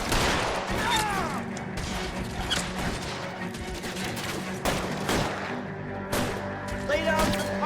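Gunfire crackles in L.A. Noire, with repeated sharp shots and bursts scattered irregularly over a steady background of game sound, fairly loud and close, with no voices.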